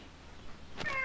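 An unhappy cat gives a single short, clear meow near the end, close by in an otherwise quiet indoor room.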